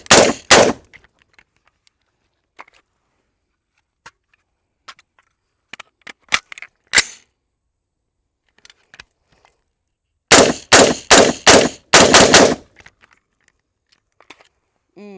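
A Daniel Defense MK18 and a Brigade BM15 rifle fire at a range. Loud, sharp, close shots come in short clusters between quiet gaps, and a rapid string of shots follows near the end.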